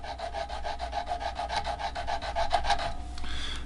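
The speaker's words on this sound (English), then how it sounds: "We'll just sand this down." Sandpaper of 320 grit scrubs across a guitar's wooden body finish in steady, quick back-and-forth strokes, close and continuous, slowing to a lighter rub near the end with no talking.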